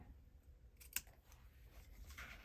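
Scissors cut through card paper during fancy-fold card making, giving one crisp snip near the middle of an otherwise quiet stretch with faint papery rustle and no talking.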